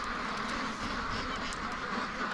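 Free-range ducks quack in their pen under steady broadband noise, the calls loosely overlapping and fairly close throughout.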